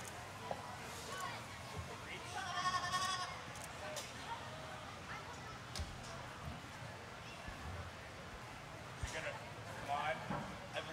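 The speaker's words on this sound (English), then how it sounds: "would the goat like to say something?" A goat at a 4-H goat club costume show bleats a few times amid a busy arena, the short wavering calls moderately loud over crowd noise and scattered talk from people nearby.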